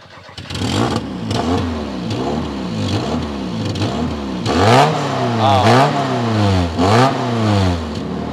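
A Ford Escort RS2000 Mk2 rally car's engine revs hard again and again, the pitch climbing and falling in repeated bursts that grow louder toward the end, with a brief voice exclamation at the start.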